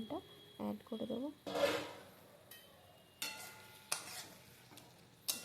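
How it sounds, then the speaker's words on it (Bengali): Fried potato and eggplant pieces tipped into a fish curry pan, landing with a brief burst of sizzling, then scraping and stirring clatter and a few sharp knocks of a utensil against the pan, faint, with a voice speaking early. "এবার আমি ভেজে রাখা আলু আর বেগুনটা অ্যাড করে দেবো।"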